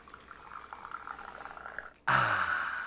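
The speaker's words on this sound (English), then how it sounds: "Dump the water from my preheated cup." Hot water is poured out of a preheated coffee mug in a kitchen, a sudden close splash and stream that begins about two-thirds through and runs steadily to the end after a quiet stretch.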